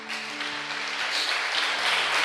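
A church congregation applauding during a Spanish-language sermon: a steady wash of many hands clapping for about two seconds, with a low sustained tonal hum underneath.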